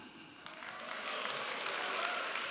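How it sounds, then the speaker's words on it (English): A convention audience at JAINA 2025 applauds, the clapping building from a scattered patter into a fuller, sustained round heard from within the hall. "Let's give the organizers and everyone one more round of applause"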